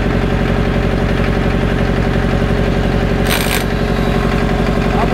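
A 1960 John Deere 1010 diesel tractor runs steadily with its hydraulic pump engaged, a loud, close, continuous rhythmic chugging throb with a brief metallic rattle partway through.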